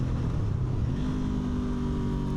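Engine of a 2025 Honda CB500F motorcycle dropping from fourth to third gear as the clutch comes out, a steady low rumble with a slight change in pitch and continuous road noise, no talking.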